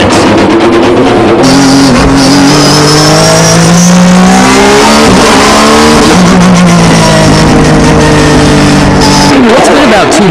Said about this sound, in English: Before the time attack, Tsuchiya goes out on the circuit to feel the car and to make final adjustments